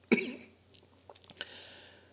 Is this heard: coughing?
yes